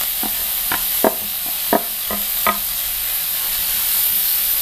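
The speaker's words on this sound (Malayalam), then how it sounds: "ഇത് ചേർത്ത് നന്നായിട്ടൊന്ന് വഴറ്റിയെടുക്കണം." Curry leaves, green chili and ginger sautéing in a pan: a few sharp scrapes and stirring knocks of a spoon come at an uneven pace over a low, steady sizzle, with no voices.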